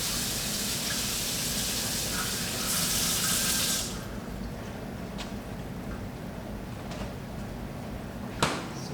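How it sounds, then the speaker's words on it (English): Hot water pours from a kitchen sink tap, a loud dense rush that drops to a quieter steady flow partway through, with a few small knocks and clicks. "Fill it with hot water."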